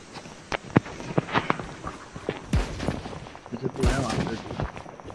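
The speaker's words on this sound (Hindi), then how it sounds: "यहाँ से फायर आ रहा है।" Gunfire rings out in a video game, scattered sharp shots and a couple of heavier booms over several seconds, mixed with footstep-like thuds, moderately loud.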